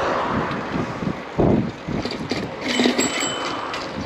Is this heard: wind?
yes